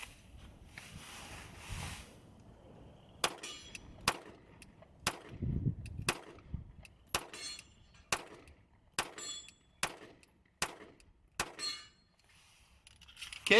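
A SCCY CPX-2 pistol fires through a magazine with about a dozen sharp, loud shots at a fairly even pace, spaced about a second apart, after a quieter opening stretch.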